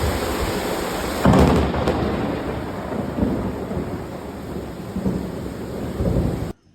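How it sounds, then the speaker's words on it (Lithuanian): Heavy rain pours steadily in Ubud while thunder rumbles, with a louder crack and roll near the start and further low peals building toward the end, no voices. "Gamtos garso, lietaus garsą."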